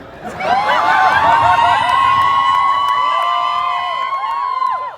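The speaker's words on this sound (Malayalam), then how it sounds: "കൂവലി കൊണ്ടോ ആർപ്പുവിളി കൊണ്ടോ ഭയപ്പെടുന്ന ഒരാളല്ല ഞാൻ" Large live-show audience booing and shouting together, a loud, sustained wall of drawn-out hooting voices that swells quickly and holds for several seconds.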